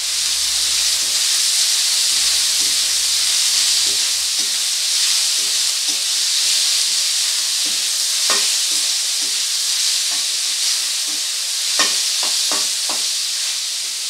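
Onion, added to oil with fried garlic, sizzles with a bright constant hiss, while a spoon stirs it with soft scrapes and a cluster of sharper clicks toward the end, close up with no speech.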